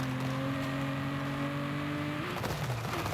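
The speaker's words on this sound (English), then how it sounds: "I love how this car sounds." A race car engine in the video game Forza Horizon 5 drones at a steady high pitch, then shifts and revs as it changes gear, with a roaring, somewhat synthetic tone.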